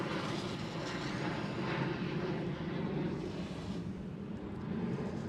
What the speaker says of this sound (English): KLM Cityhopper